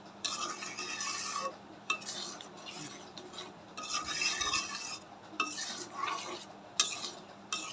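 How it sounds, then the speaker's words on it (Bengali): A spoon stirs ghee into chana dal in a pot, making repeated soft scraping and sloshing strokes in uneven bursts, fairly quiet and close, with no talking. "ভালো করে চিনিটার ভিতরে ডালে মিশিয়ে দেবো।"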